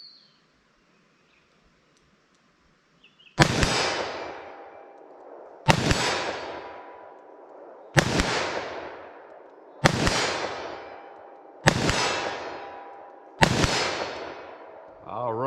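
Six loud shots from a snub-nose revolver firing .327 Federal soft points, spaced about two seconds apart after a quiet start, each a sharp crack with a ringing decay outdoors at a range.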